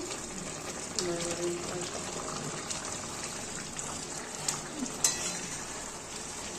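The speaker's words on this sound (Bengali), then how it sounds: "এক টেবিল চামচের মতন গরম মশলা দিয়ে দিলাম হালকা হাতে একটুখানি পলট পালট করে দিচ্ছি" Bottle gourd curry fries in a pan and is gently tossed after a tablespoon of garam masala goes in, giving a steady, moderate sizzle with occasional light clinks and scrapes of the spoon.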